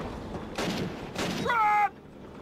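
Two short bursts of rifle and machine-gun fire crack out in Call of Duty: Roads to Victory, a World War II battle, followed by a brief whining tone before it cuts off.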